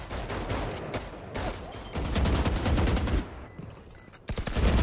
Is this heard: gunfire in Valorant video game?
yes